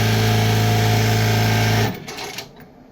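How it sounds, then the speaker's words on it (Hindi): A computerized LBH1790SS sewing machine stitches with a steady, loud mechanical whir for about two seconds, then stops abruptly, leaving faint clicks and room noise. "छोटा टांका मारेगी मशीन"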